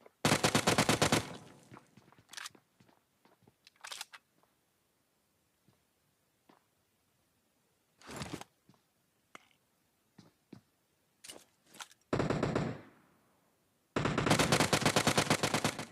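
Automatic rifle fire from a PUBG match comes in loud, close bursts: a long rattling burst at the start, scattered single shots and short volleys through the middle, and another sustained burst at the end.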